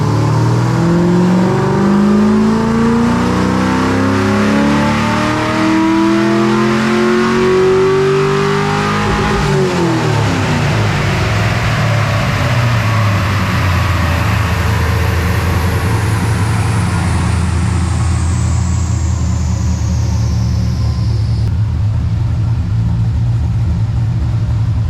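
Camaro SS with a swapped 5.3 V8 on a dyno for a baseline pull, the engine loudly climbing through the revs for about ten seconds, then dropping off into a long, winding-down whir as it coasts to a stop.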